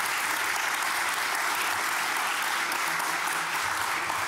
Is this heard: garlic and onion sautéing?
no